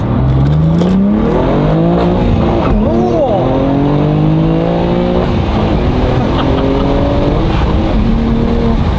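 Modified BMW G87 M2 accelerating hard, its engine note rising in loud, continuous sweeps with turbo boost sounds, close up inside the car, while voices speak over the engine throughout.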